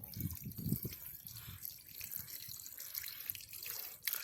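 Water drains from soaked rice, pouring and trickling steadily, with some splashing drips at the start, fairly faint and close by.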